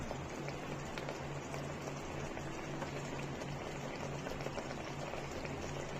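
Quiet, continuous bubbling and popping of thick chicken gravy simmering in a pressure cooker pot, soft and close, with no voices.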